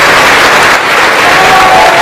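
Sustained applause from a standing ovation in the US Senate chamber for South Korean President Yoon's speech, a dense, continuous wash of clapping from a large crowd that stays loud throughout.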